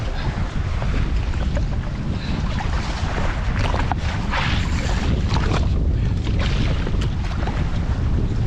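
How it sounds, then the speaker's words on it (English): Constant rushing wind buffeting the microphone over open water, with wave wash and hull noise underneath, loud and unbroken throughout. "The wind's definitely got up. The sea's getting a bit messier."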